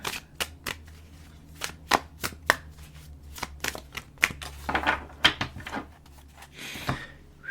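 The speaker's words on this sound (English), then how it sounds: "I shuffle all my decks differently depending on how they are and how they're sized and how they're gilded." A tarot deck is shuffled by hand in a run of crisp, irregular clacks and riffling bursts, close and fairly quiet, with no talking over it.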